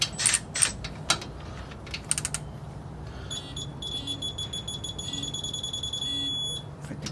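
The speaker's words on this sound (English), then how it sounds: "So I'm gonna go ahead and torque it down 55 foot-pounds." A digital torque wrench ratchets while a bolt is tightened on a race truck. Clicks come first, followed by sustained high-pitched electronic beeping that holds steady as the target torque is reached.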